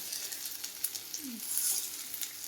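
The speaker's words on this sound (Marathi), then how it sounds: "म्हणून मी थोड्याशा तेलामध्ये फ्राय करून दाखवणार आहे" Alu vadi, rolled colocasia leaf slices, fry in a little oil over low heat, giving a steady, close sizzle with soft crackles and a brief stirring scrape partway through.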